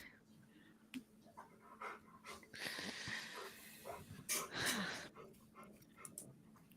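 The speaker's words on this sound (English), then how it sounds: "Is that a dog I hear?" A dog pants and breathes loudly close to a microphone in uneven rhythmic bursts, with voices talking over it.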